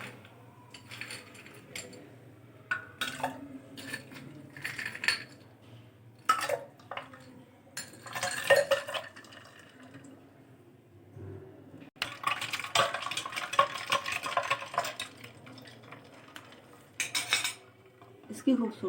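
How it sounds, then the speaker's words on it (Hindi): Ice cubes drop into a glass of Sprite soda, making bursts of clinking and rattling against the glass with quieter gaps between them. "अब इसके अंदर हम बर्फ शामिल करेंगे।"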